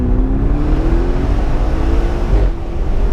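An Audi RS6 engine accelerates in a loud, sustained drone heard from inside the car. The rising pitch is steady before the note eases slightly near the end.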